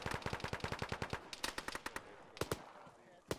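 Rapid automatic gunfire from an Arma tactical shooter game crackles in dense bursts, followed by scattered single shots and short volleys, loud and close, with no talking.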